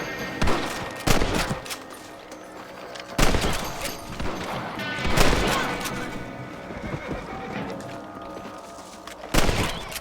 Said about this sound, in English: You're better at shooting rabbits than outlaws